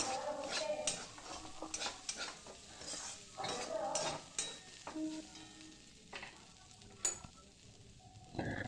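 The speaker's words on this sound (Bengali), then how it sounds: "খুব ভালো করে নেড়ে চেড়ে সুন্দর একটা ভাজা ভাজা করে নেব" A spatula stirring flattened rice pulao with sugar in a frying pan, with repeated scraping and clinking strokes over a soft, steady sizzle, close and moderately loud.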